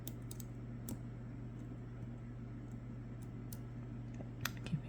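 Small, sparse clicks from picking a Bilock lock, faint and irregular over a steady low hum, with a few sharper ticks near the end.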